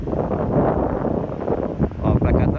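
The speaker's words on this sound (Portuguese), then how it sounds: "Bem mais vento, né?" Strong wind at the beach in Praia Grande, a broad steady roar with gusting, close and loud, blowing across the microphone, with a few faint voices mixed in.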